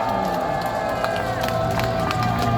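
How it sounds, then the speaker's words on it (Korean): A crowd at a Korean street rally claps and cheers over a steady backdrop of amplified sound and murmuring voices, the noise loud and continuous throughout. "박수하겠습니다"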